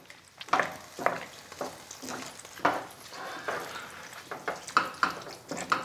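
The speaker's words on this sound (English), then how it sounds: "You just want to mix that in slowly." Thick gravy being stirred slowly in a hot pan, a close, soft sizzle with wet swishing strokes that rise and fall repeatedly.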